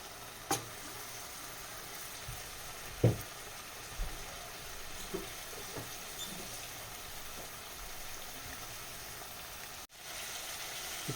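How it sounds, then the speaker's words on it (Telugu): Mutton frying in a pan with fried spices hisses and sizzles quietly and steadily, broken by a few soft knocks and clicks of stirring, with no talk. "ఇప్పుడు మనం మటన్ వేసుకుంటాం దీనిలో."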